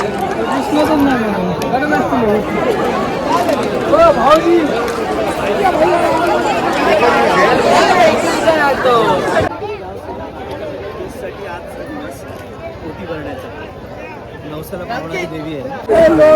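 Crowd chatter fills a busy food shop during the Kunkeri Hudotsav festival, a dense babble of many voices that stays steady, then thins slightly partway through.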